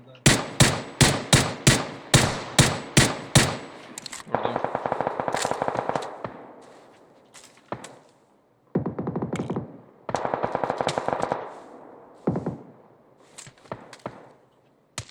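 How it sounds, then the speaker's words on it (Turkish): Gunfire in the video game PUBG: a rapid string of sharp single shots, then bursts of automatic fire with pauses and a few isolated shots, loud and close, with no talk over it. "Vurdum birini daha"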